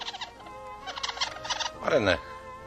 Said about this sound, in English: It's a young seagull.